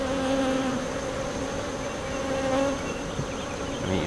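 A strong honeybee swarm buzzes on a hive frame from a swarm trap, a dense, steady, close hum that fills the whole moment with no voices.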